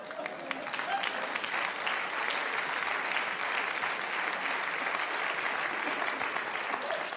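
A theatre audience at a French comedy stand-up show claps loudly and steadily, a dense continuous wash of applause that holds at full strength throughout.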